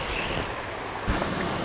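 A sailboat sails close to the wind through a heavy ocean swell about 57 degrees off the breeze, with a steady rush of water and wind all around and a louder surge of wave wash partway through.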